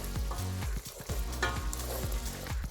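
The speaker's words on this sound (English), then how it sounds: "Give it one final stir" A pot of chicken madras curry with thickened sauce being given a final stir, scraping and bubbling sizzle close by, with a steady low hum underneath and no voices.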